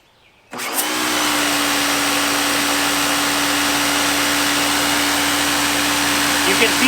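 Ryobi 1800 psi electric pressure washer spraying through a turbo nozzle, a loud steady hiss with a constant motor hum that starts abruptly and runs unbroken close by.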